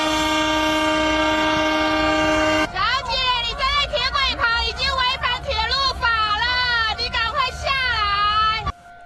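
A train creeps slowly along a track lined with crowds of onlookers, its horn blaring in one long steady blast, then giving way to loud chirping, warbling tones over the rumble of the moving train.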